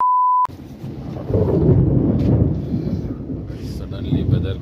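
Thunder from a storm rolls in as broad, loud rumbling that swells after a short electronic beep at the start, with wind noise and rain mixed in.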